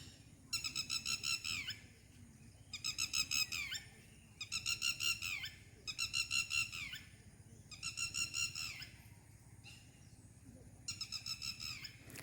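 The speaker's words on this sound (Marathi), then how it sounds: "हा पक्षी बघा किती ओरडतोय मगापासून." Rural bird near rice-planting fields, calling repeatedly in short bursts of sharp, whistled trilling notes, about six bouts separated by brief pauses, clear and moderately close over a quiet outdoor background.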